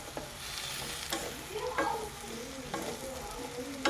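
Okra and potato stir-frying on a low flame for a masala fry, a steady soft sizzle broken by repeated scrapes and clacks of a spatula against the pan, close and without talk.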